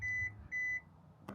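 Two steady electronic beeps sound from the tailgate height setting of a 2025 Hyundai Santa Fe Hybrid, close and clear in a quiet setting, followed by a brief click.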